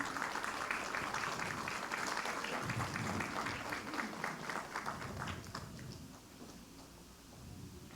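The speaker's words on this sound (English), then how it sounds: "If you can help me, give them a round of applause." A community parents' council meeting audience applauds, with faint, distant clapping that holds steadily for several seconds and then thins out toward the end.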